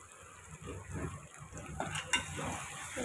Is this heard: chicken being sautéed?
yes